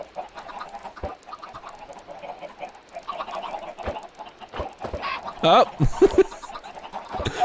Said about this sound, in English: We got too many chickens. Why are there so many chickens?